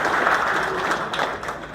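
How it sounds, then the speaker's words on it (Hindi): A crowd at an electricians' event for a wire and cable manufacturer claps in a steady, dense wash of applause, continuous and fairly loud throughout. "तो ताली किसके लिए होनी चाहिए?"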